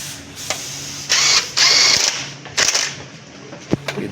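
Impact wrench snugging short bolts on the engine of a Hino Dutro truck, in three rough, buzzing bursts of about half a second each. The bursts are close and loud, with clicks and handling noise between them.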